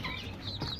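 Chickens eating cut grass, soft nearby clucks and small rustles in a brief, fairly quiet moment, no voices.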